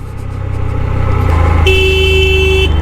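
A car horn honks on a steep downhill mountain road, one sustained blast in the second half over a loud running vehicle engine close by.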